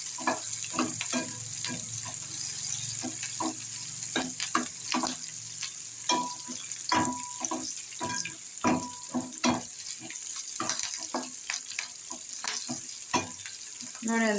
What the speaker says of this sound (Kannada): ನೋಡಿ ಒಂದು 2 ನಿಮಿಷ ಅಷ್ಟೇ ಫ್ರೈ ಕೆಂಪಾಗಿದೆ, ಈರುಳ್ಳಿ ಕಲರ್ ಚೇಂಜ್ ಆಗಿದೆ.